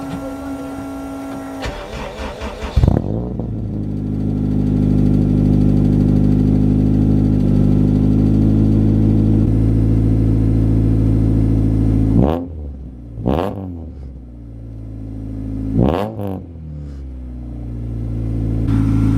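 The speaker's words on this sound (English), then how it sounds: "Both the exhaust and the fuel system is damn loud" An all-wheel-drive Honda CRX engine cranks and starts, then idles with a loud, steady exhaust drone, followed by several sharp revs that rise and fall.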